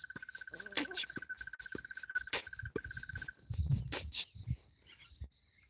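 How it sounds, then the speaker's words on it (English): Rapid cricket-like chirping from a small insect outdoors, a steady pulsing trill that runs for several seconds and then stops, with other faint chirps and rustling around it. "Little drum beating bug."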